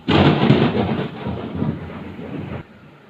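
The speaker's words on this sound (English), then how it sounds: "you can hear the background sound of thunderstorm and lightning" A thunderstorm rolls overhead: a loud, deep rumble of thunder swells at once and then slowly fades over a few seconds, mixed with the steady hiss of falling rain and no voices.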